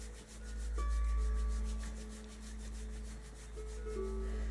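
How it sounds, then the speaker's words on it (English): Hands rub briskly back and forth over the sole of a bare foot during self-massage, producing a close, soft, continuous friction sound in rhythmic strokes with a faint background tone. "just rubbing the sole of the foot, creating a bit of heat"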